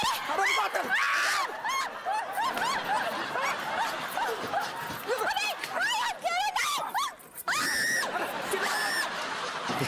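A woman screams loudly in a comedy TV scene, shrill cries rising above constant chatter and laughter, with bursts of excited voices around her.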